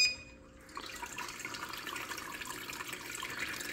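Water pump restarting in a hydroponic grow-deck irrigation system, a brief tone then a steady trickling, bubbling flow of water, fairly quiet and continuous with no talk.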